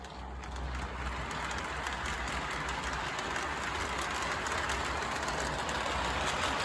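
An O gauge model train runs along its track, pulling a string of cars, in a steady, continuous rumble with faint rhythmic clatter that holds at an even level throughout.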